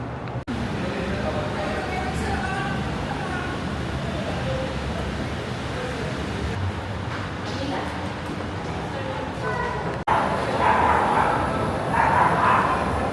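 Dogs bark repeatedly in short yips over busy background noise and talking people, the barking sounding fairly close.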